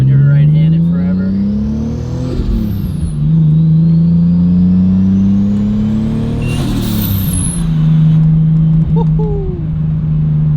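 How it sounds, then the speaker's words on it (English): A Nissan R34 Skyline with a stock clutch pulls hard in the cockpit, its engine note climbing through the revs, dropping on a gear change and rising again, loud and steady. "I haven't driven a stock clutch car in forever."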